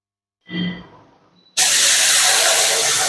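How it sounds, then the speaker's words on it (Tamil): A brief hiss and clatter, then a sudden loud, steady rush of two cups of boiling water pouring and steaming into a hot pan of semolina for kesari, filling the rest. "அதனால் 2 கப் தண்ணி ஊற்றுறேன்"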